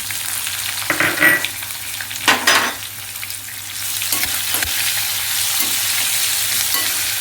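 Onion pieces, washed and cut, frying in oil for tempered gongura: a steady close sizzle with stirring scrapes and bursts of crackle early on, then settling into an even hiss.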